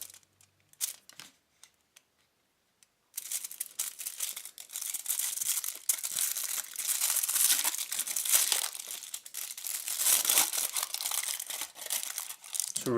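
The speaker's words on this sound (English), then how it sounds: "And now let's peel back this foil." Gold foil wrapper being peeled back from a Godiva Masterpieces Hazelnut Oyster Belgian milk chocolate, a few faint crinkles first, then a long, steady, close crackling and crinkling that continues to the end.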